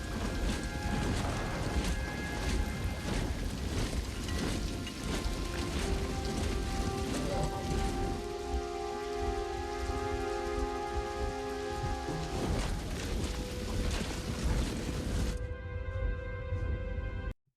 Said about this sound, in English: Now we got to fight in the rain, bro.